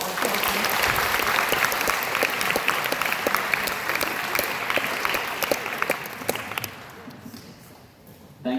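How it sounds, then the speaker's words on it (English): Audience applause at the opening of a high school sports centre, a dense, steady clapping that holds loud for about seven seconds before thinning and fading out. "Give yourselves a round of applause."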